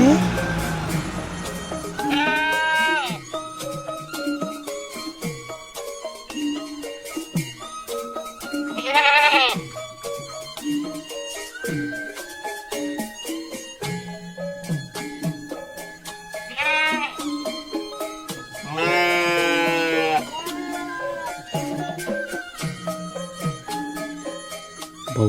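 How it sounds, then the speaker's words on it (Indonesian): A sacrificial goat bought for Eid al-Adha bleats in several loud, wavering cries spread across the stretch, with voices talking in between the calls. "ini saya mau nitip kambing kurban buat besok ya"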